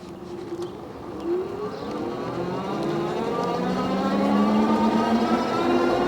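A Tomofree YYG BR100 electric bike climbs uphill under throttle, its motor whine rising gradually in pitch over a steady wind and road rush, close and moderately loud.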